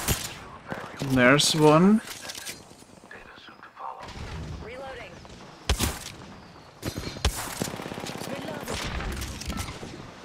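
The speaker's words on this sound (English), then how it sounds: "I'm getting shot at now." Gunfire in the video game Apex Legends: scattered sharp shots and impacts crack among footsteps and game sounds, some loud and close, others distant, while a player speaks briefly.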